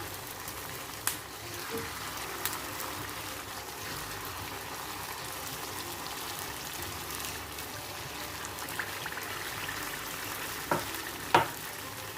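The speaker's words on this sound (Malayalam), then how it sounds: "ഇതിലേക്ക് ചക്കപ്പഴം ഇതുപോലെ മാവിലൊന്ന് ഡിപ്പ് ചെയ്ത് ഇട്ട് ഫ്രൈ ചെയ്തെടുക്കാം." Ripe jackfruit pieces dipped in batter frying in hot coconut oil over medium flame: a faint continuous sizzle and bubbling with a few soft clicks, quiet and close, with no talking.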